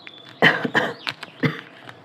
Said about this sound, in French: Désolée si je tousse